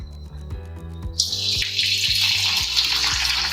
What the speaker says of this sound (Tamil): இப்போ ஆயில் சூடாகிட்டுருக்கு, ஒன்று ஒன்றா போட்டு பொரிச்சு எடுத்துடலாம்